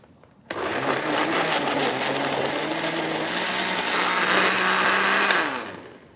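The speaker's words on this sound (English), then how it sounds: "We're going to put it on our blender," A kitchen blender whirs steadily at full speed for about five seconds, blending a banana fruit smoothie, then spins down, with no talk.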